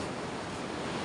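Seashore waves pound the beach during a typhoon, a dense continuous roar of surf and wind that stays loud and even throughout, without any talking.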